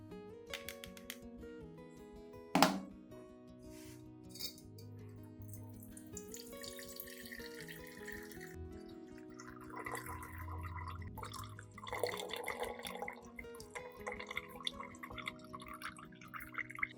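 Blended garlic extract being filtered to remove residue, liquid pouring and trickling steadily close by for most of the clip, with a sharp knock early on and some clinking; no one speaks.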